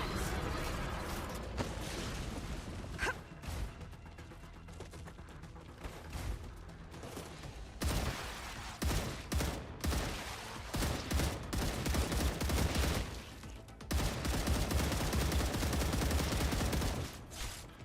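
Rapid automatic gunfire in the sci-fi game StarRupture, sustained bursts and volleys filling most of the stretch with brief pauses, loud and close, with mechanical clatter.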